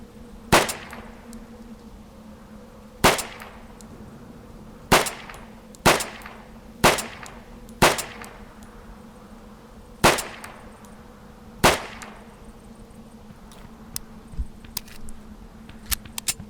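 Sharp pistol shots in the Deadside survival shooter, eight spaced single cracks over a steady low game ambience hum, with a few fainter distant pops near the end.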